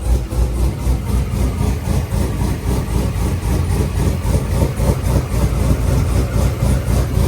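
A Corvette with a swapped engine idles loudly through a rowdy exhaust, a rhythmic, lumpy pulsing rumble heard up close and without any talk.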